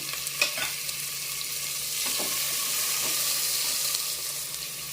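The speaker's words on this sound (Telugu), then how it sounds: "ఇప్పుడు మనం కట్ చేసి పెట్టుకున్న 3 టమాటాలు వేసేద్దాము." Chopped tomatoes tipped into a hot frying pan for a Telugu drumstick and potato curry, stirred through with a steady sizzle and scraping of the spoon, close and continuous with no talking.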